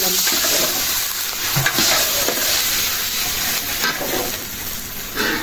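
Spices frying and sizzling in a pan with a splash of water, with browned onions, for a village Eid khichuri, stirred now and then; a steady close hiss with soft scraping, no talk.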